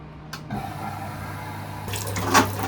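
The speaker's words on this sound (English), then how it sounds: "So you can see that water is draining through this." Water drains from the open drain filter and drain hose of an LG washing machine with an OE error, a steady close trickle and splash that swells into a fuller gush partway through.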